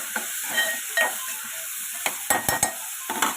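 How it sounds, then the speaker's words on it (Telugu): Chopped onions and green chillies fry in hot oil with a close, bright sizzle, broken by several sharp scrapes and clinks of a spatula stirring against the pan. "ఆయిల్లో మనం ముందుగా తరిగి పెట్టుకున్న ఆనియన్స్, పచ్చిమిర్చి వేసుకొని వేయించుకోవాలి"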